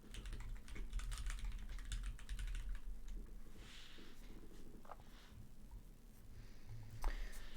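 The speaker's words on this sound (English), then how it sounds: "I'm just typing that definition so that Oreo can see it in the game chat" Continuous rapid clatter of keys on a computer keyboard, typing a word definition into an online Scrabble game chat, fairly close and steady for the whole stretch with a low hum beneath.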